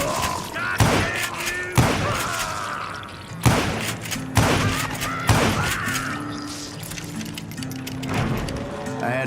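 Gunfire in the Western shooter Call of Juarez: Gunslinger, with five or six sharp, loud shots spaced about a second apart over game music and ambience.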